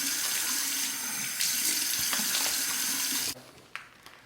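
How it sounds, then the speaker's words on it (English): Warm water gushes from a bathroom tap for a quick rinse of a Parker 97R safety razor, a steady close hiss that stops abruptly, followed by a few faint drips and taps. "Just a quick warm water rinse."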